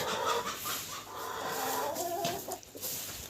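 Chickens cluck in a farmyard poultry area, a busy flock murmuring and clucking steadily at moderate distance with a few sharper calls, and no talking over them.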